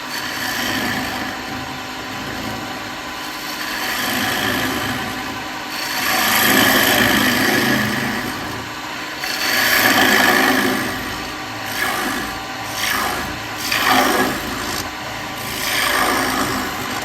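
A wood lathe spins a wooden cowboy-hat blank while a spindle gouge cuts it, giving a steady scraping, rubbing hiss that swells and fades in long passes over a faint motor hum.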